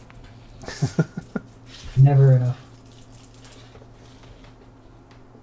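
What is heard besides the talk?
dog whimpering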